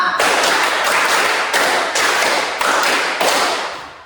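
A group claps together in a rhythmic exercise built on sets of five claps. Distinct, loud, slightly ragged group claps land in a steady pulse, with short pauses between the clusters.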